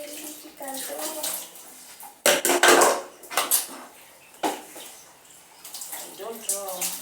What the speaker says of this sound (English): Washing utensils without running water on the taps.